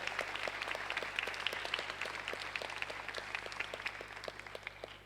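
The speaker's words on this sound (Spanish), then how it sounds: "así que un fuerte aplauso para don Fernando." A crowd applauds steadily, a dense patter of many hands clapping at moderate distance, slowly fading toward the end.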